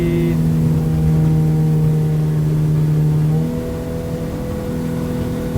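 Outboard engine on a Hewes boat settles from a loud acceleration to cruising speed, giving a steady droning hum with a slight drop in pitch partway through and no voices.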